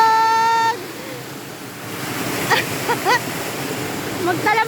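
River water rushes steadily at a riverside bathing spot in Tanay, Rizal, a broad continuous wash with a child's excited squeals and voices popping up over it.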